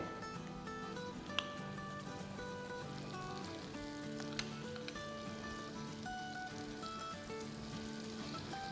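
Chicken samosadilla brushed with garlic butter sizzles steadily in a pan over low flame, a soft continuous crackle with no talking, joined by faint tonal background sounds.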